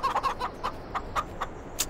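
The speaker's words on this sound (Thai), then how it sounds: "โอ้นี่ไก่แจ้นะครับ" Bantam chickens in the farming game Farming Simulator give a quick run of soft, repeated clucks, close and clear, in an irregular pecking rhythm ending with a higher squawk.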